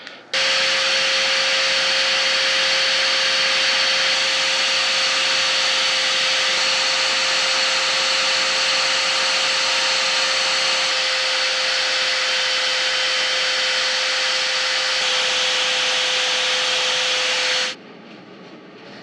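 A Damascus steel ring is sanded by hand with sandpaper in an apartment. It makes a steady, continuous abrasive rubbing with a faint high ringing tone. The sound is close and holds for about eighteen seconds before stopping abruptly.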